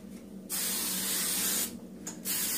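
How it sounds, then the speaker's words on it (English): Hairspray from an aerosol can is sprayed over freshly curled hair in two long bursts, a strong airy hiss lasting about a second, a brief pause, then a second, shorter spray. "give it one final spray."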